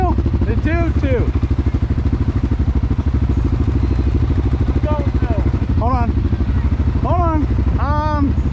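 ATV engines idle loudly and steadily side by side, a CFMOTO CForce 600 and a Suzuki King Quad 750 lined up for an outdoor drag race, with a constant close rumble as people talk over it.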